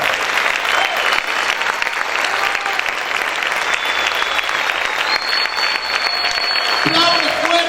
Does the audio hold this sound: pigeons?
no